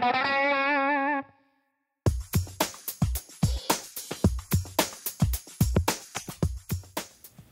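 Electric guitar with distortion playing a fast palm-muted exercise up to speed, tight chugging notes in a steady rhythm, preceded by a sustained ringing chord that cuts to a brief silence.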